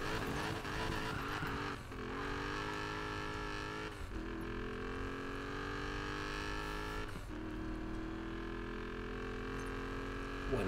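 A Dodge Challenger's engine roars in the racing game Need for Speed Payback, a sustained loud drone whose pitch climbs through gear after gear, with short dips between shifts and a steady background hum.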